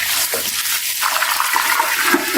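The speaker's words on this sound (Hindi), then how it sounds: "यहाँ इसमें मैं थोड़ा सा पानी डाल दूंगी।" Water is poured into a cooking pot for a rice pilaf or biryani, a steady splashing rush that fills the short stretch without pause and with no voices over it.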